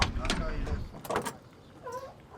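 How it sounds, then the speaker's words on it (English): A car door on a 1968 Chevrolet El Camino SS 396 works with a few short clunks and latch clicks, close and fairly quiet, with brief mechanical rattles between them. "All right, smooth action on the doors."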